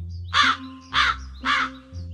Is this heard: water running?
no